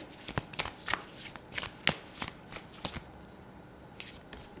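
Tarot cards are shuffled in a quick series of about a dozen crisp riffling snaps, close and fairly quiet, with a short pause before a final few shuffles and no talking.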